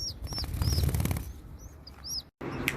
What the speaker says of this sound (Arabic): هسه راح نشوف الطيور همينه.